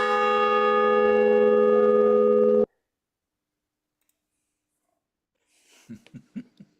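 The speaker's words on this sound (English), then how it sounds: "remember to ring that bell." A bright, sustained bell-like chime rings steadily for a couple of seconds, then cuts off abruptly into silence before faint rustling sounds.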